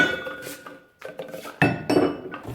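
Metal chisels from a Parkside PDUW 280 A1 multi-purpose air tool kit, a flat chisel and a pointing chisel, clinking and clattering against each other as they are handled, in a few sharp bright clinks close by.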